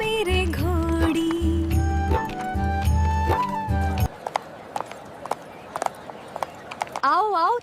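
A mare's hooves clip-clop at a steady walking rhythm, close and fairly loud, under a man's singing; the song then breaks off into an outdoor bustle with sharp, scattered sounds.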